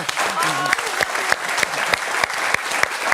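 A French television studio audience breaks into applause on a morning football talk show, a steady dense clapping with sharp individual claps standing out and a voice speaking briefly over the start.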